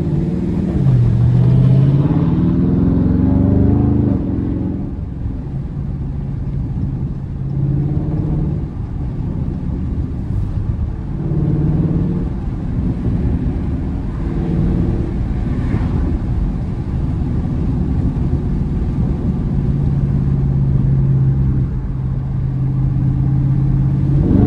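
A Dodge Charger Scat Pack with the 392 V8 rumbles and revs while drifting, a loud, steady low engine roar with repeated surges of throttle that swell and fall across the whole stretch.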